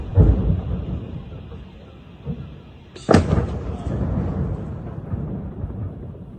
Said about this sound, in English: you can hear yourself these secondary explosions.